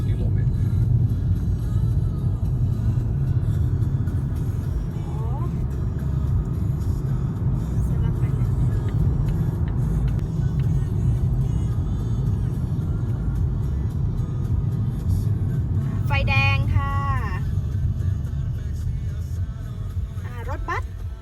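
Heard from inside, a car rolls slowly through a Finnish town with a steady low road rumble, while someone talks over it and a couple of brief higher tones cut in near the end.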